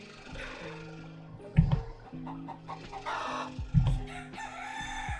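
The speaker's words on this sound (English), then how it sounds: "I have chickens too. Chicken dance." Rooster crowing and hen clucks played as sound effects from a Stream Deck, two loud crow bursts rising over a steady bed of clucking and squawks, close and continuous, no talk.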